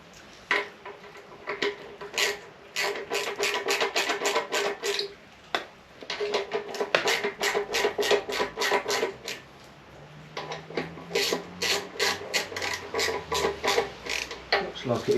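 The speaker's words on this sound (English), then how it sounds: "So I'm just going to start tightening it up and see if it pops in" Tightening a fuel pump seal into place makes repeated close, rhythmic creaking and ratcheting clicks in bursts, with short pauses between turns.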